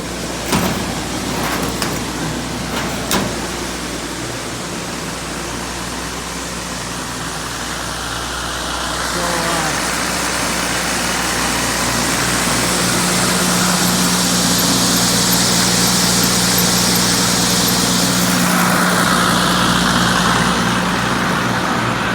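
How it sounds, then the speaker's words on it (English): An 8-inch by 60-foot grain auger runs while unloading soybeans, a loud steady mechanical drone with a constant low hum and rushing hiss of grain, preceded by a few knocks at the start. "that's an 8-inch by 60-foot auger"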